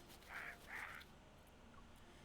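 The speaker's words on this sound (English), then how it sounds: "the crow screeches. It sounds like a metal spoon is being scraped against a metal bowl" A crow gives two harsh, screeching caws in quick succession, each about a quarter second long, faint and somewhat distant, followed by quiet background hiss with no voices.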